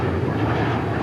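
A Qantas airliner taxiing across a runway at DFW airport, a steady, continuous jet engine rumble with broad low and mid-range roar holding evenly throughout, no voices.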